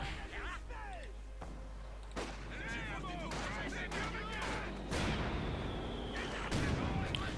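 Mortar fire in the real-time strategy game Company of Heroes 2, heard as muffled thumps and booms among battle noise, with a voice talking over it throughout.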